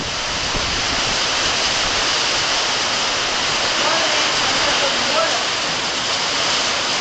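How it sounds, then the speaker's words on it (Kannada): Heavy rain pours down during a thunderstorm in Shimoga, a loud, dense, unbroken roar of falling water that holds steady throughout. "ಗೈಸ್ ತುಂಬ ಜೋರಾಗೇ ಇದೆ ಮಳೆ."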